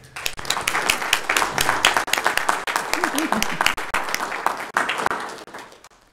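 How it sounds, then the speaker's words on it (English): Attendees at a county commission meeting applaud a nominated woman, with brisk, crowded clapping that swells, holds steady for several seconds, then thins toward the end as a voice speaks faintly through it. "Will you join with me in giving her a round of applause?"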